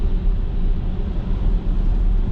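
Steady low rumble of road and tyre noise inside the cabin of a Tesla Model Y Long Range on bigger tires, a continuous broadband hum with no talk.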